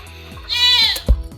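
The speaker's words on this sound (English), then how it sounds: "See if the goat like it" A goat lets out one wavering, nasal bleat at close range while being fed pumpkin, a rising then falling cry lasting about half a second, followed by a low thump or chewing noise.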